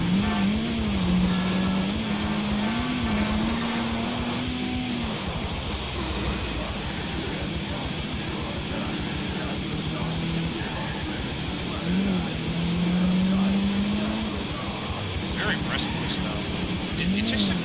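The Hakumai car in GTA IV drives along with a steady engine drone and occasional rising revs, running continuously beneath someone talking throughout.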